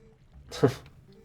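A dog in the video game Twilight Princess HD gives a single short snort-like sound, brief and close, set against quiet game ambience.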